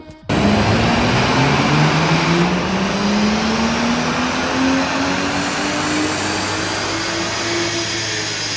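A BMW M car with its stock exhaust runs on a dyno. The engine comes in abruptly and climbs steadily through one long, loud rev, its pitch rising the whole time with no voices over it.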